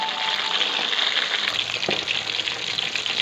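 Fish pieces fry in hot oil for a fish curry, making a loud, dense, continuous sizzle and crackle up close, with a few brief pops and no voices over it.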